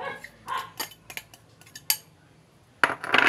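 A utensil scrapes and clinks against a pot while ricados are stirred in for banana-heart meatballs, a few quick irregular knocks and clatters, close and fairly loud, with brief pauses between bursts.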